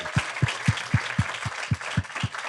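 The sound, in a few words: live audience applause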